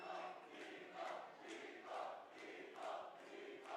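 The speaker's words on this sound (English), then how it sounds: "There's some Nico chants in the crowd if you guys can hear." At a Mortal Kombat 1 esports tournament, a crowd at the Final Kombat 2025 event chants a player's name in a steady, repeating rhythm. The chanting is distant and faint, with no one speaking.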